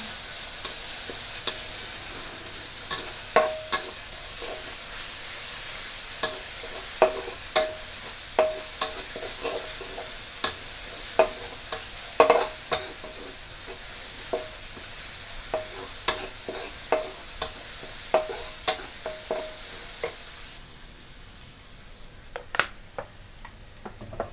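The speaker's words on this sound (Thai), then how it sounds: "ลงผัดให้หอมนะคะ ผัดไปปานกลางนะคะ" Garlic and coriander root stir-fried in a hot pan: a steady soft sizzle under regular scraping and tapping strokes of a spatula, close and moderately loud, ending quieter.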